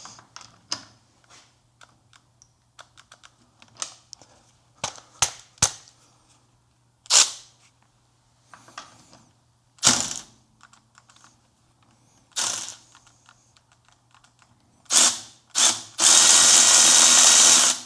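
A Parkside 12V cordless angle ratchet tightening wheel hub nuts, heard as short sharp mechanical bursts and clicks in irregular sequence, growing longer toward the end and finishing with a loud sustained whir, close up and without voices.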